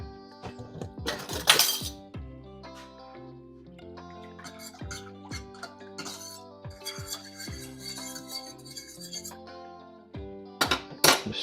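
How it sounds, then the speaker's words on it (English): A spoon stirring salt and oil into homemade pepper sauce in a glass container, giving rapid bright clinks and scraping rattles of metal against glass, close and continuous with louder clattering bursts. "Just stir that in."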